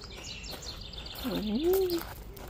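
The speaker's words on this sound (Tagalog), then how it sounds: "Ganyan yung mga ibon." A single bird call swoops and warbles briefly over faint outdoor background noise in a garden, with a few softer chirps earlier, fairly distant.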